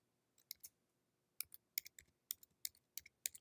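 A computer keyboard being typed on, a short run of about a dozen crisp, quiet clicks in an uneven rhythm after a brief pause, heard alone in a near-silent room.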